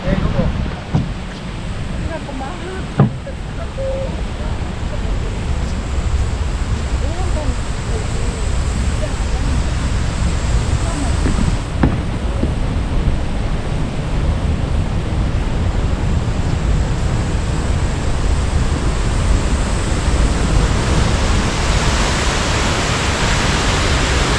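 Jaein Waterfall on the Hantan River, swollen after heavy rain, gives a constant broad roar of falling water that stays loud and unbroken throughout.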